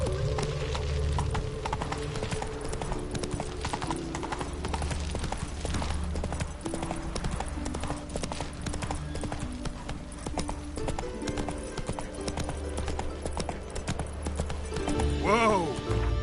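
Geralt's horse Roach galloping in The Witcher 3, rapid steady hoofbeats pounding throughout with a whinny near the end, under someone talking and game music.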